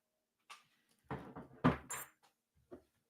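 A drawer is pulled open and pushed shut while someone rummages for a screwdriver, giving a few short, close wooden scrapes and knocks separated by quiet gaps.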